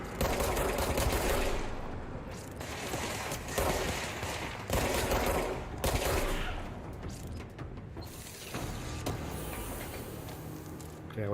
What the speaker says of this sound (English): Oh, they're already shooting at us.